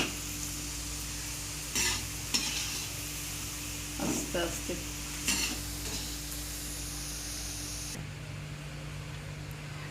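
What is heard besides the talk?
pitha being fried and lifted from hot oil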